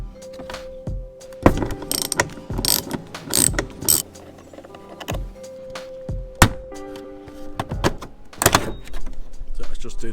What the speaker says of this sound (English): So it looks like I can just undo this nut, and then I'll be able to pull this off,